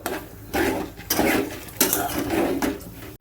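Repeated scraping and rustling strokes of stirring masoor lentils in a little oil in a metal frying pan, a steady rhythm of stirring movements, close up with no voices.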